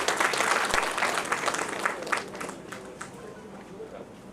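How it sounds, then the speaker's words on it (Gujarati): Audience applause welcoming a speaker at an inaugural function, a dense, steady wash of clapping that starts full and gradually thins toward the end, with some crowd noise mixed in. "માન્ય શ્રી દિવેશભાઈ અકબરી સાહેબને પ્રાસંગિક ઉદ્બોધન માટે આપણે તાળીઓથી એમને આવકારી રહ્યા છીએ."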